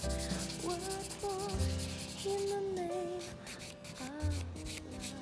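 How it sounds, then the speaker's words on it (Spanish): Polishing a small surface to remove file scratches, including the edges and tip, heard as a steady rubbing and sanding hiss with brief pauses, set beneath background music. "Vamos a pulir."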